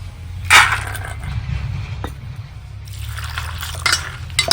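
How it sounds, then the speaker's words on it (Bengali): Peanuts are washed in water, with sloshing, splashing and dripping in a bowl, a louder splash near the start and more at the end. "বাদামটা একটু জল দিয়ে পরিষ্কার করে ধুয়ে আমি একটু সেদ্ধ করে নেব"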